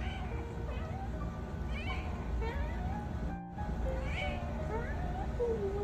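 A chatty calico cat meows repeatedly in short rising calls close to the listener, with faint household background noise.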